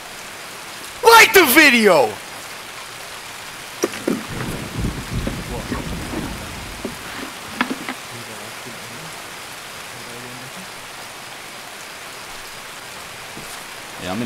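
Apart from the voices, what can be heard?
rain in the video game Escape From Tarkov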